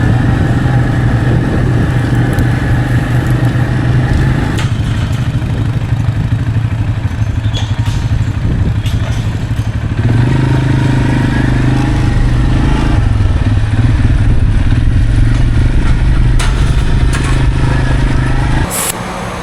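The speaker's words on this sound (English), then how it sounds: "This machine has pneumatic downforce, just pumping up the airbags." A farm planter with pneumatic downforce runs while its airbags pump up, giving a steady, close mechanical engine drone with rattly clatter and brief hissy bursts. It continues for about twenty seconds with little change and no talk.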